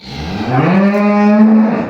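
A single long, loud, close moo from a dairy cow, a Swiss and Simmental cross, rising and holding steady for about two seconds.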